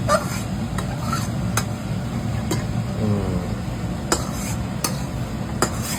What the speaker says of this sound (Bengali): এই যে বেগুনটা ধরে এবার এর মধ্যে ঢেলে দেবো। এটা বেশি নাড়াচাড়াই করা যাবে না, কড়াইটা ভালো গরম আছে